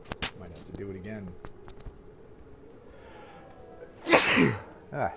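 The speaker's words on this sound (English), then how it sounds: "Sneeze" A single close, sharp sneeze bursts out near the end, following a quieter stretch with a little speech-like murmur and faint background sound.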